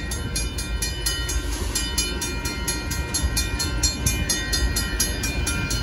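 A northbound Union Pacific auto freight train rolls steadily past at Oltorf Street in Austin, Texas, its wheels clicking in a regular rhythm over rail joints beneath a continuous low rumble.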